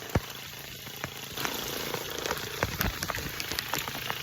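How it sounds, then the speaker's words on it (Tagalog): Heavy rain falls on a mountain bike ride up Mount Oro as a continuous soft hiss, with occasional sharper drop and knock sounds close by. "Ito yung totoong ulan."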